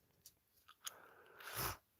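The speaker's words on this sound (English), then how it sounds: "I'm sorry for the loud chewing of bubblegum." Bubblegum is chewed loudly near the microphone during a model kitbashing session, with a few sharp, wet smacks spaced apart, then a longer sticky crunching burst.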